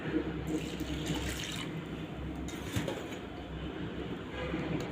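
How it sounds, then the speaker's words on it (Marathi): A continuous stream of water pours into a bowl of chana dal, rushing steadily throughout with a faint low rumble in the background. "दोन कप पाणी टाकूया"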